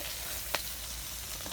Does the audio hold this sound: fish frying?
yes